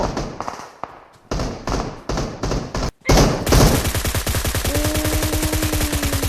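Rapid automatic gunfire from PUBG Mobile, a battle royale shooter, crackling loud and close in clipped bursts, then breaking into a long, evenly paced stream of shots with a steady tone running under the later firing.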